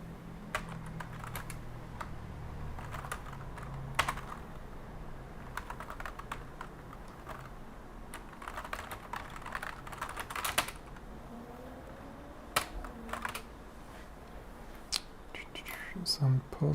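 A password typed on a computer keyboard during a Linux setup on an UltraSPARC-64 machine, heard as quiet close key clicks in irregular bursts with pauses, a few louder taps, and soft murmured speech in the background.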